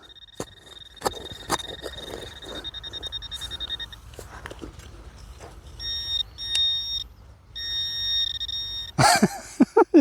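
A metal detector gives electronic beeping tones, steady high-pitched signals in bursts, over a buried metal find, with a loud rustling scrape near the end.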